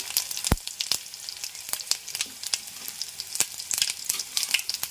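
Garlic and cumin fry in hot oil in a pan for a spiced rice dish. The frying gives a close, continuous sizzle broken by frequent sharp crackles and pops, with no talking.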